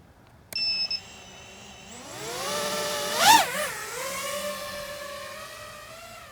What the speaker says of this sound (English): I'm gonna fly my drone and see what it looks like from up high